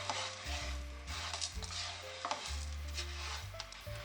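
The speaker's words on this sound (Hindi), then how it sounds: "अब इसको हम ऐसे चम्मच के साथ हिलाएंगे।" A spoon stirs melting sugar in a pan while it caramelises for kulfi, giving soft scraping and gentle sizzling strokes in a steady rhythm, close and fairly quiet, with a low hum in the background and no talking.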